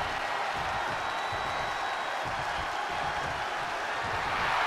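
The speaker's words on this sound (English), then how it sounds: "The sound of this crowd is deafening" Arena crowd at a professional wrestling title match roaring steadily, a dense, loud wash of cheering and noise that holds without a break throughout.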